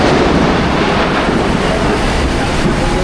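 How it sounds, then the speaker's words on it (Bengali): Dense, unbroken roar of heavy rain during a thunderstorm, loud and steady throughout. "আজকে বাইরে কিন্তু অনেক বৃষ্টি"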